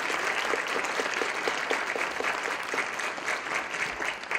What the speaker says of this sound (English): give all those people a round of applause